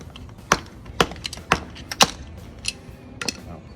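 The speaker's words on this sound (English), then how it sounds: "put a screwdriver in the end, smack it on the ground, force it back out" A screwdriver jammed into a socket is smacked against the ground while freeing a swollen lug nut from a 2021 Toyota Tundra, giving four or five sharp metallic knocks about half a second apart, followed by fainter scattered clinks and light handling noise.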